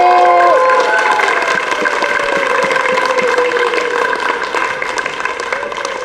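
An audience at an honours ceremony for a play's writer bursts into dense, loud applause. The clapping is sustained and fades slightly toward the end, with some tonal background sound mixed in.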